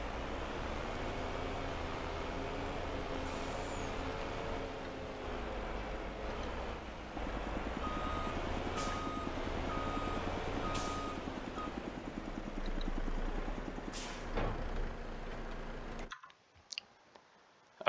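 A heavy truck reverses in a mining and ore-processing video game, its steady engine drone carrying a regular electronic backup beeping, with occasional air-brake hisses and clicks before the sound cuts off near the end.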